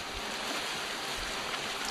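A Searunner trimaran sailing downwind, wing on wing with the genoa poled out, rushing through waves under autopilot; a steady broad wash of water and wind, constant and fairly loud, with no talk.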